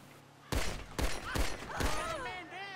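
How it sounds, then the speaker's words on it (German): Four sharp pistol shots fired in GTA V Online, spaced about half a second apart, each ringing out with a short echoing tail while a voice talks faintly underneath. "So mit der Billigknarre rumschießen"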